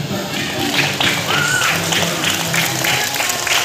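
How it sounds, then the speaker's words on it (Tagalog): A crowd at a welcoming event for Team Kalingap breaks into loud, sustained applause, dense rapid clapping close by with scattered cheers over a continuous wash. "Palakpak!"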